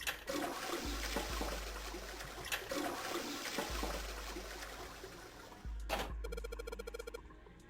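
A toilet in the 999 video game flushes after a string is pulled, with a loud rushing gurgle that surges and fades several times, followed by a short run of electronic beeping tones.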